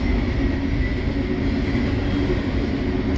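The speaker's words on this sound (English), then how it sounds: "The train is going by." A train goes by as a steady, dense rumble with a constant roar that stays at the same loudness throughout and has no breaks or distinct clacks.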